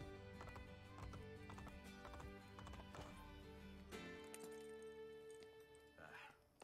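Horse hooves clip-clop steadily in Assassin's Creed Brotherhood, with a horse whinnying over layered game music and a speaking voice in the mix.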